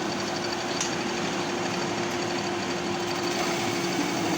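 A cutting machine with rotating 4-inch rollers driven by a 2.5 motor, working outdoors: a continuous, even mechanical hum and rattle holds steady throughout at moderate loudness, with no voices.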